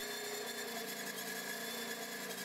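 A small glow-plug model engine runs steadily at about 3300 rpm, driving a generator through a 1:2.5 ratio, giving a continuous buzzing drone with fine rapid pulsing, fairly faint and alone without any talk.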